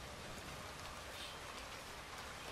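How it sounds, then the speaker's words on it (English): Steady, dense rain falls in Red Dead Redemption 2, a continuous close hiss of drops on surfaces that holds even throughout with no voices. "Oh, it's raining."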